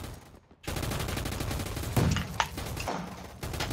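Gunshots in a Roblox gunfight: a steady rattle of game gunfire runs nearly the whole time after a brief lull near the start, with a couple of louder bursts standing out.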